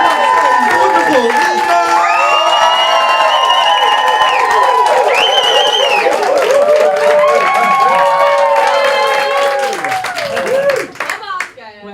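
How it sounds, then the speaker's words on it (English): A comedy night audience breaks into loud, sustained clapping and cheering, with whoops and shouts over the applause, before it thins out near the end. "Start your clapping and cheering, please."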